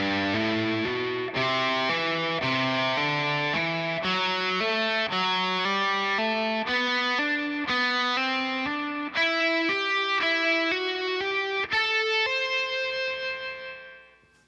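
Distorted electric guitar plays a fast picked shred exercise, repeating note groups that climb across the strings in a steady rhythm, loud and up front with no talking before ringing out at the end.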